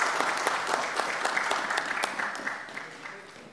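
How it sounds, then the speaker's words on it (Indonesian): Applause in an Indonesian parliamentary commission session, a close round of clapping with distinct individual claps that gradually thins and fades out over a few seconds. "Kasih tepuk tangan dulu dong"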